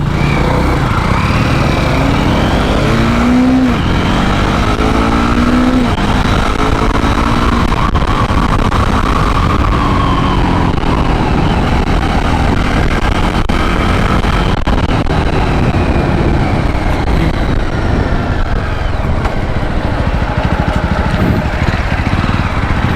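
Jawa 42 and Royal Enfield Meteor motorcycles drag racing, with a loud, continuous engine drone that climbs and shifts in pitch through the gears, close and unbroken.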